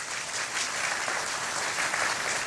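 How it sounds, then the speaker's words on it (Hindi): Steady, dense applause from a crowd at a religious gathering, filling the whole stretch evenly without pauses. "ताली बजा देना, मैं सबसे पहले उसी को देखूंगा।"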